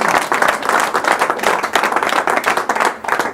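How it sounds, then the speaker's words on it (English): Audience applause after a card magic trick, dense rhythmic clapping from a small crowd, loud and close throughout. "Bow to your thunderous applause."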